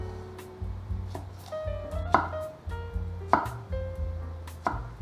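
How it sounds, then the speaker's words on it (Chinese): A knife chops a tomato into small chunks on a cutting board, with steady, close, distinct thuds in an even rhythm at about two per second and no voice. "把番茄切成块状，尽量切小一点"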